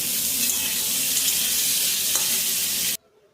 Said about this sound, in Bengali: এবার কড়াইতে তেল দিয়ে পটলগুলো বেশ লাল লাল করে